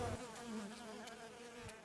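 Honey bees buzz steadily inside a colony, a close, continuous droning hum with a few louder individual bees passing near, no voices.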